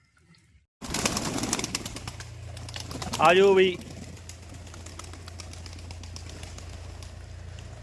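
Pigeons gather at feeding time with a brief cooing call and some wing movement, while a man calls out to them over a steady low background hum.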